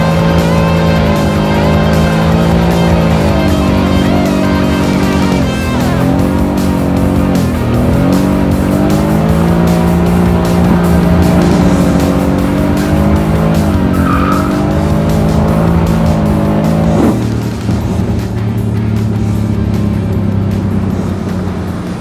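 A new car driven hard, tires squealing and skidding continuously over a loud, straining engine whose pitch rises and falls with throttle, close and intense for about twenty seconds with no talking.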